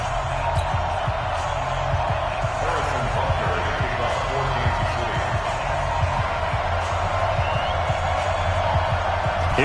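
A stadium crowd at an NFL game at Arrowhead roars continuously in a football video game, a loud, dense wash of cheering with bouncing thuds beneath, while a commentator's voice talks over it.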